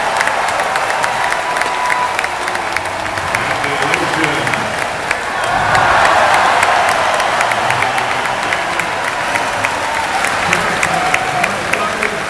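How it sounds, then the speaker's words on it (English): A large Olympic crowd at the London 2012 Games cheers and applauds steadily, a continuous wash of clapping that swells briefly in the middle before settling back to sustained applause. "I'll let the crowd cheer for a second."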